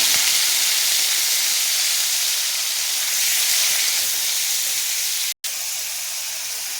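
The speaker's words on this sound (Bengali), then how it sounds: "তো পনিরটা ভাজা হচ্ছে" Paneer pieces fry in hot oil in a kadai, giving a strong, continuous hissing sizzle throughout, broken by one very brief dropout.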